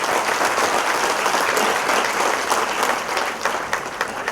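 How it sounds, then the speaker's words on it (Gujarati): Sustained audience applause at a Gujarati stage show honouring a performer, a dense, steady wash of clapping from a large crowd that holds strong throughout and eases slightly near the end. "એકવાર ખૂબ જોરદાર તાળીઓ છેલભાઈ માટે હોવી જોઈએ."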